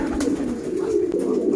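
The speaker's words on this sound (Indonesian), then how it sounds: "Nama burung Prindavan mas" A racing pigeon gives a soft, throaty coo that rolls steadily for a moment, close and clear, with no talking over it.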